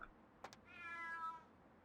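A single drawn-out cat meow in the Vampire The Masquerade Bloodlines video game, faint and rising then falling, preceded by a couple of quick soft clicks.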